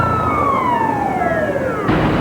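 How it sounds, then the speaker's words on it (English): Emergency vehicle siren wailing with a steady falling tone over street noise, answering a call about a stranded painter high on a building, loud and close with no talk. "But sirens are just a lullaby to this Rip Van Winkle."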